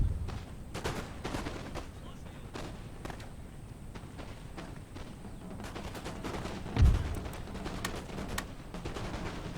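Musket volleys crackle across a battlefield in Empire: Total War, scattered distant shots popping steadily with one louder nearby blast amid the din.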